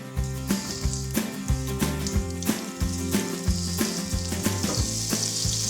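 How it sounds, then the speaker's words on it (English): Battered onion rings frying in hot oil, a constant close sizzle punctuated by regular clinks and stirring knocks. "Just dip the onion ring in, see if it sizzles"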